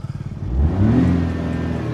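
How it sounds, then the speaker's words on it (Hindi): A new 2025 Maruti Swift with the Z12E series engine revs up from idle, the engine note rising smoothly and holding loud and steady as it climbs toward 5000 rpm, heard close with no talking. "5000 आरपीएम तक रैव होता है।"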